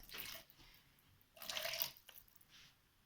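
Water poured from a container into a bowl of homemade playdough mixture, two short splashy pours a second apart followed by a faint trickle, close by and quiet, with no talking.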